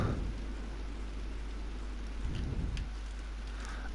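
Steady rain falls in the farming video game Pure Farming 2018, a soft continuous hiss with a low rumble underneath and a slight swell near the middle.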